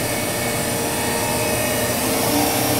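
An Excel PMC-10T24 vertical machining center spindle spins at high speed, giving a steady, loud whine and hum that holds constant throughout with no talk.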